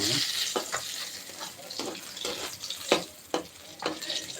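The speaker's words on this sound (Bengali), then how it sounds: "মাছ ফ্রাই হবে দ্রুত" Fish fries in a wok with a bright, continuous sizzle. Spatula strokes scrape and clatter at a loose rhythm of roughly one every half second, close up with no talking.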